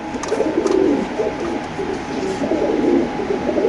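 Caged pigeons at a bird market coo in low throaty rolls, several birds overlapping close by, steady throughout with no voices.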